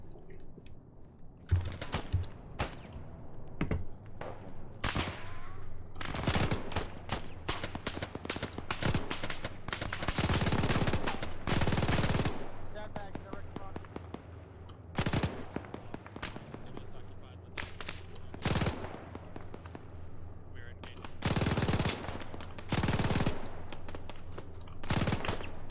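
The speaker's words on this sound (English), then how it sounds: "Got gunfire ahead." Gunfire in a military video game mission, with bursts of automatic fire and sharp single shots crackling near and far in an irregular rhythm, while players talk over it.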